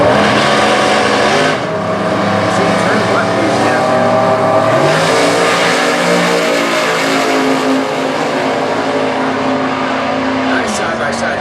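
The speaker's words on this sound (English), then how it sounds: "Nice side-by-side drag race," Two drag cars launch side by side at a Super Gas drag race at Indy, a Pontiac GTO against an all-black Brogy chassis car, their engines roaring loud and continuous near the track with crowd noise and a background voice.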